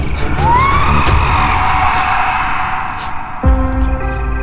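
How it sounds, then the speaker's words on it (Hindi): A demon's scream in a Hindi horror story, a loud, drawn-out rising shriek layered over dense rumbling noise, ending with a deep booming impact. "शैतान की चीखें और भी भयानक हो गईं"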